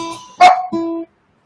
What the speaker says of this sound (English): I'm going to put the dogs inside.